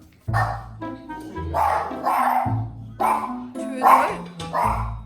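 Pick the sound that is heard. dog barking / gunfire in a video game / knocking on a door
dog barking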